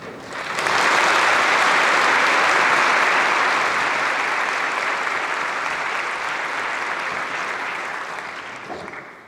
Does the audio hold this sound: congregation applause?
yes